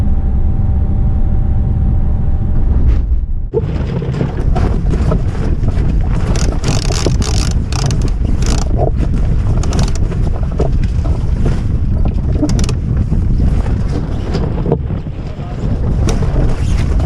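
Sailboat beating close-hauled to windward near slack tide, with steady loud wind buffeting the microphone, rushing water and hull noise filling the whole stretch; a brief tonal hum fades early on.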